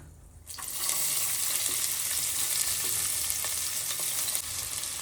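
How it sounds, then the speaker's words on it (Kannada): Onions frying in ghee with cinnamon, cloves and cardamom for a mushroom pulao make a loud, dense, steady sizzle that swells in after a quiet first half-second and holds close and even, with no voices. "ನೀಟಾಗಿ ಫ್ರೈ ಮಾಡ್ಕೊಬೇಕು. ಫುಲ್ ಗೋಲ್ಡನ್ ಬರೋ ತನಕ ಫ್ರೈ ಮಾಡ್ಕೋಬೇಕು."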